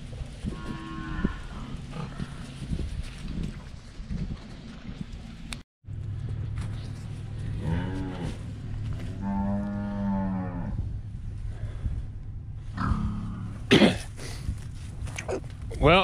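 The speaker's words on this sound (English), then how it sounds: "I ended up having to just take two hogs and two bull calves, Brahma cross calves that are wild, skittish" Brahma cross bull calves and hogs in a livestock trailer, with several loud, drawn-out moos close by over a constant low engine-like hum, plus a few coughing or throat-clearing grunts and rattling noises.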